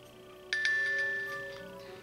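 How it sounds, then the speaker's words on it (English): A Nintendo DS birthday start-up chime from the handheld game console: a bright two-note ta-ding followed by a short ringing melodic tail that fades over about a second and a half, heard alone over a faint steady hum. "the DS make that little ta-ding sound"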